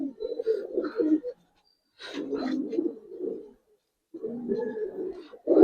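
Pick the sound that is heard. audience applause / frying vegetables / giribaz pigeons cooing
giribaz pigeons cooing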